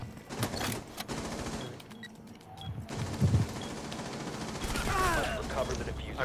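Rapid automatic gunfire bursts in the Rainbow Six Siege shooter game, loud and close, with a brief lull midway before more shooting and in-game noise resume.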